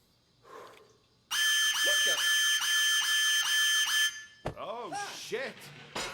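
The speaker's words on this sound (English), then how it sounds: "smoke detector in the bathroom" A smoke detector goes off in a bathroom in a video game, sounding a loud harsh repeating electronic alarm for several seconds before voices break in over warbling sounds.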